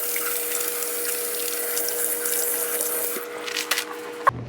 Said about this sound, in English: the first thing we want to do before we start any cooking is, of course, wash our hands